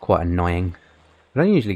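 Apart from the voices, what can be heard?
None of the usual background noises is heard.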